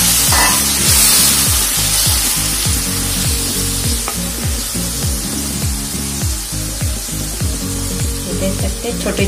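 Potatoes fry in hot oil in a pan for a home-style aloo sabzi, a loud, close, continuous sizzle with a rhythmic ticking pulse underneath.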